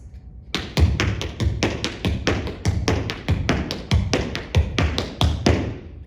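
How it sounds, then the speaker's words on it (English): Tap shoes strike a hard floor in up-tempo spank, heel, step patterns, a crisp, close, evenly paced run of sharp taps and heel thumps with no talking. "Now, if I was to do them up tempo,"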